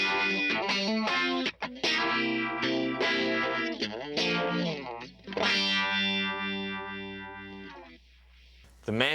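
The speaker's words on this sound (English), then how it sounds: "The third setting is the classic Electro Harmonix phaser sound." An electric guitar run through the classic Electro Harmonix phaser effect plays a series of chords and sustained notes with a sweeping, swirling tone, up close and on its own.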